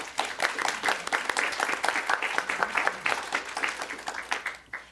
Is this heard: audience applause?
yes